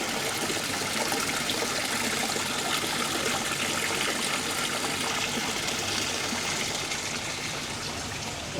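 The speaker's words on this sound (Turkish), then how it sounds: "Böyle su akıyor." Water flowing steadily beside a fish pond at a temple site in Bali, a continuous broadband rush and trickle close by, with no talking.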